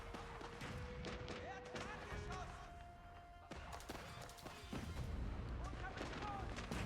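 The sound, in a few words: hand cannon and Ozutsu gunpowder fire in a video game battle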